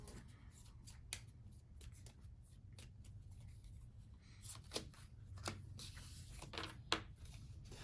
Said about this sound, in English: this is a game that has a lot of shuffling